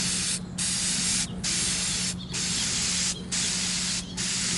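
An aerosol spray can coats a canvas print from about eight to ten inches away, hissing in five steady bursts of around a second each, separated by brief gaps as each pass ends.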